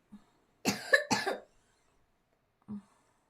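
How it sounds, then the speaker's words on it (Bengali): A person in a hospital coughs twice in quick succession, close and fairly loud, with a faint breath before and another short cough after a pause. "তারপরে কাশি শুরু হয়ে গেছে"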